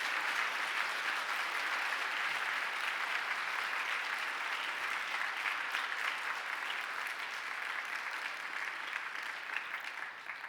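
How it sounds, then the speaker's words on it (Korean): A church congregation in Jeju applauds during a New Year special dawn prayer service. The clapping is steady, dense and sustained, filling the room evenly throughout with no talk over it. "여러분, 멀리서 오는 모든 성도들에게 한번 큰 박수로 축복해 주시길 바랍니다."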